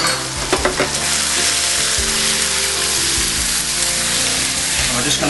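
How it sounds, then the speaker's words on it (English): Ginger and garlic stir-frying in a hot wok, a loud continuous sizzle with a few clanks and scrapes of stirring. "stir fry that. Right in with the garlic and right in with the ginger."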